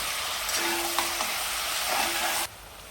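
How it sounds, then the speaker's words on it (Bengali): Beef browns in a pan for a light soup, a continuous hiss of frying with a few scrape-like tones, stopping abruptly near the end; no talking. "মাংসটা দেওয়ার পর অবশ্যই একটু ভালো করে ভুনে নিতে হবে"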